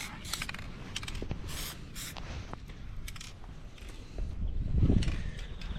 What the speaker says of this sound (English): Bit of first coat of paint on